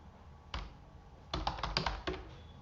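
Keys clack on a computer keyboard, first a single tap and then a quick cluster of keystrokes and one last tap, close and fairly quiet.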